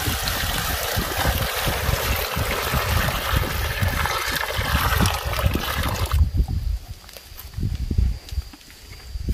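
Fresh water pours into a 20-litre bucket outdoors on a farm, a steady broadband trickle and splash that runs loudly for about six seconds, then thins to lighter dribbles with occasional knocks and movement.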